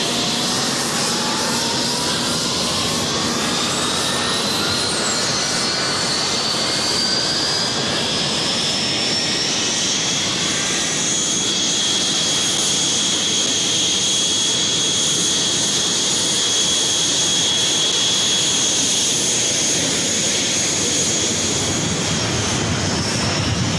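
Argentine Navy jet armed with Exocet missiles taking off from an airfield in southern Argentina: a loud, sustained jet roar with whining tones climbing in pitch as it powers up, and no speech.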